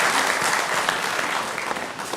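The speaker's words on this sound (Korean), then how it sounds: "영광의 박수를 우리 하나님께 올려드리겠습니다" A church congregation claps steadily through a Sunday morning worship service, a dense, even wash of many hands applauding together without pause.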